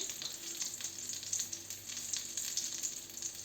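Breaded eggplant rolls stuffed with minced meat sizzle and crackle steadily in a pan over low heat, a soft continuous frying hiss with no voices.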